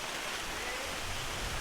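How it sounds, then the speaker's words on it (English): Heavy rain pours down outdoors during a stop on a cruise, a steady dense hiss of falling water that fills the whole moment without letup, with no voices. "it's pouring and we're just standing here waiting for it to hopefully stop"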